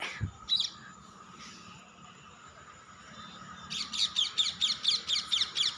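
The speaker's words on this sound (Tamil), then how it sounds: "கிளி கிளி கத்திக்கிட்டு போகுது" Parrots screech in a rapid run of about ten sharp, evenly spaced calls near the end, fairly loud over a steady outdoor background, after a quieter stretch with a few scattered chirps.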